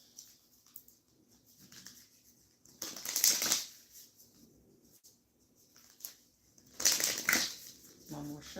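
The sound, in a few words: shuffling tarot cards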